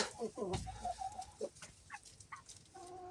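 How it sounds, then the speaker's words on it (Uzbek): An Adler breed rooster calls and Adler hens cluck in short bursts, with several hens chattering nearby over a faint background. "Bu mana o'si Adler, toza Adlerski xo'rozimiz"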